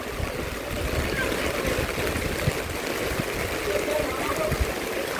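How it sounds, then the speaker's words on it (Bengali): Steady rain falls over a town in Bagerhat, a continuous soft hiss and patter with low splashy dribbles, moderately faint and even throughout. "1 ঘন্টা 20 থেকে 30 মিনিট হবে এরকম বৃষ্টি হচ্ছে"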